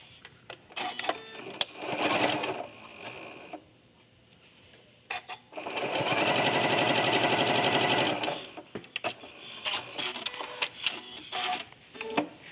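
A sewing machine stitching binding onto a quilt, with a long steady run of rapid needle clatter in the middle and shorter bursts before it, mixed with clicks and handling noises close by.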